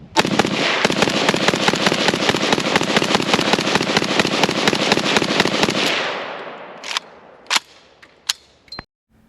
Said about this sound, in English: Let's run a few rounds to my Russian RPK.